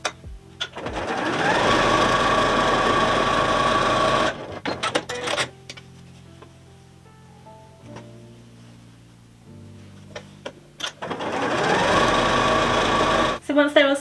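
A sewing machine runs in two long bursts of steady stitching as quilt squares are joined, separated by a quieter stretch of handling noises and brief pauses.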